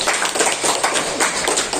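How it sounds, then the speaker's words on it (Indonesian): An indoor audience gathered for a home sharing event bursts into dense, continuous applause, many hands clapping close and loud for the whole short stretch without a break. "Tepuk tangan dong buat bapak dan ibu"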